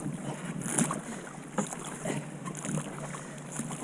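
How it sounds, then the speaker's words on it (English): Paddle strokes from a rowing boat on open water, soft splashy swishes recurring at an irregular pace, with steady wind noise across the microphone throughout; no voices. "my paddle's making more noise than I'd like"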